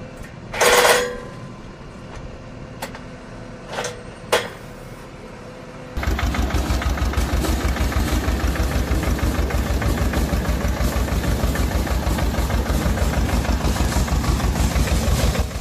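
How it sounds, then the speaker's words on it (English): Engine of an apple harvesting machine straddling tree rows in an orchard, starting partway through and then running steadily with a loud, rapid rhythmic chug, after a few sharp clanks and knocks early on. "These specialized harvesters straddle the tree row and use rollers or vibrating arms to detach apples directly into bins on the machine itself."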